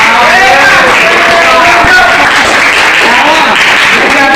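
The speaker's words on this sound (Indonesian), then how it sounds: "Tepuk tangan dulu." Loud, continuous clapping from a class of students during a lesson, with voices calling out over the applause the whole way through.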